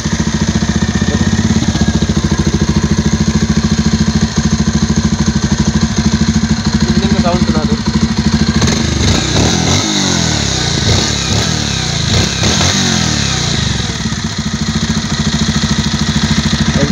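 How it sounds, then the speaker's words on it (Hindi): A Bajaj Pulsar 150 BS6 motorcycle, noted for a pickup problem, runs close by with a loud steady idle and exhaust chatter. Several throttle blips rise and fall in the middle before it returns to idle. "मैं थोड़ा आपको इंजन का अपना साउंड सुना दूँ और एग्जॉस्ट भी सुना दूँ।"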